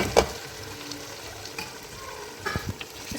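Pre-fried chicken goes into a pan of onions and garlic for a white karahi, giving a soft, steady sizzle with a few scrapes and clatters of stirring scattered through.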